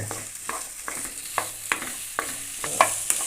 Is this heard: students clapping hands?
no